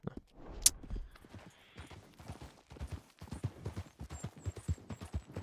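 Horse hooves clip-clop at a steady walking rhythm in Red Dead Redemption 2, quiet and close, with a few brief sharp sounds and a voice now and then.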